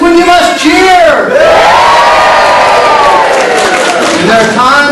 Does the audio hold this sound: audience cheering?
yes